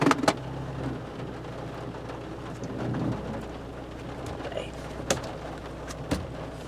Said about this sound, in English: It's raining, in case you couldn't tell.